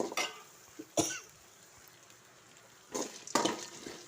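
A cook making Erode Pallipalaiyam chicken coughs from frying chilli fumes, with a sharp cough near the start, another at one second, then a pair of harsher coughs later, separated by quiet stretches.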